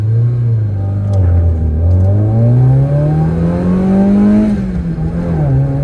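An old Citroën AX with a 1.1-litre naturally aspirated engine, tuned with a cold air intake, pulls hard from 0 to 100, its engine note heard from inside climbing steadily through rising revs with a brief dip at a gear change; no talk.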